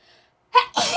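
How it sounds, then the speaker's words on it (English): A single sharp sneeze bursts out after a brief quiet moment, loud and close. "I'm gonna sneeze."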